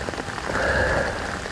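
Steady rain falls outdoors, an even broadband hiss of drops striking surfaces that swells slightly midway and continues without pause, with no voices.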